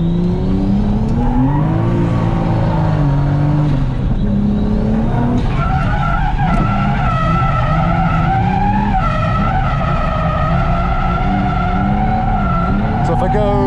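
A Toyota JZX100 Mark II drifts at Nikko Circuit in third gear, its engine revving loudly with rising and falling pitch as the tires skid and squeal continuously, close and intense, while a driver talks over it.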